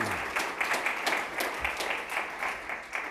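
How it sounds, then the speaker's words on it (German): An audience at a panel talk on education in the digital age claps in a short burst of applause lasting about three seconds, steady and moderately loud. "Applaus."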